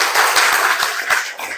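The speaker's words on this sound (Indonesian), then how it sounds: "Tepuk tangan untuk kita semua dulu." A room full of people clapping during a teacher training session, a brief, dense burst of close hand claps with sharp individual slaps standing out.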